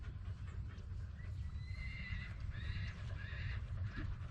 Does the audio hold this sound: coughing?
no